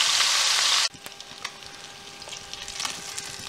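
Salted and peppered green chilies fry in a pan for a stew, opening with a loud, dense sizzle that abruptly drops after about a second to a quieter, steady crackle with scattered pops.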